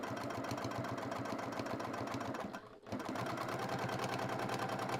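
A sewing machine running steadily as it topstitches a handmade fabric zipper pouch at a long stitch length, a dense fast whir that pauses briefly before picking straight back up, close and alone.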